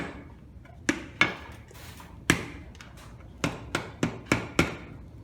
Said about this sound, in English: My hammer. Just bang it in there